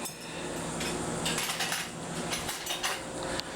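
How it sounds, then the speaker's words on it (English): A bowl, spoon and fork are pulled out of a kitchen drawer or cupboard in a busy clatter of ceramic knocks and metallic cutlery clinks, several sharp close hits over a rattling background, with no talking. "get out some bowl, and the spoon and the fork"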